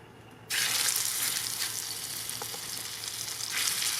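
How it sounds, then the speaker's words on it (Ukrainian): Pork belly hitting hot oil on an upturned pan lid outdoors, a sudden loud sizzle that bursts in after a quiet moment and keeps hissing steadily, swelling again near the end. "у приготуванні буду обсмажувати печеревинку."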